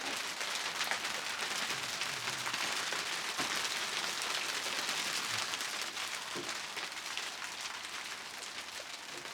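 Sleet and on-and-off snowy rain falling along an English canal: a steady, dense hiss of drops pattering on surfaces, continuous and fairly soft, with no voices.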